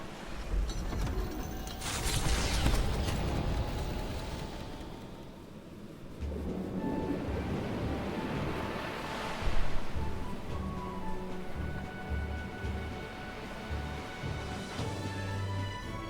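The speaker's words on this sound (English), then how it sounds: "rest assured I'll get us through these waves to Virga Island gently as can be." In the video game Metaphor: ReFantazio, ocean waves wash steadily as a ship sails toward Virga Island. A continuous sea roar swells and surges, with a low rumbling layer running underneath and no voices.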